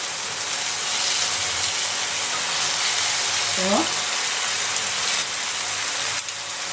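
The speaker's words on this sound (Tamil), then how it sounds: "ஆறு பச்சை மிளகாய் கட் பண்ணி வச்சுருக்கேன் அதையும் ஆட் பண்ணுறேன்" Six cut green chillies go into a pan for semiya chicken biryani, giving a loud, continuous sizzle with a brief clatter midway and a slight change in the hiss toward the end.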